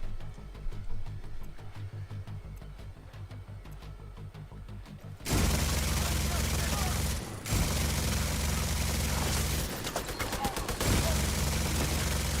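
Gunfire in the video game Division 2 erupts in sustained, loud automatic bursts after a quieter stretch of scattered shots, with a brief pause partway through and a player talking over parts of it.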